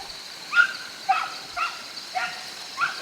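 A bailing dog barking at a wild boar somewhere in the distance, five faint, evenly spaced barks carrying over a quiet background, with no talking.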